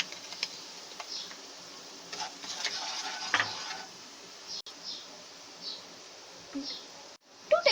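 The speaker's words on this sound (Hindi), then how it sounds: "इसको थोड़ा सा सौटे करेंगे ताकि इसमें से यमी खुशबू आएगी" Potatoes sautéing in a pan with black pepper and salt, a steady soft sizzle with scattered clicks and scrapes of stirring throughout, moderately close.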